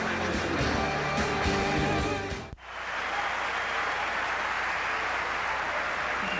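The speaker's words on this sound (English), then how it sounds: "Give LaRose a big hand" Tennis crowd in Montreal applauding Canadian Simon LaRose during his match against Andre Agassi; a dense burst of other sound cuts off abruptly, then steady, sustained clapping fills the rest.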